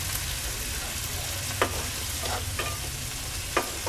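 Onion, tomato and garlic gravy with salt cooks in a pan, giving a constant soft sizzle and a few light scrapes and taps from stirring, fairly quiet and close.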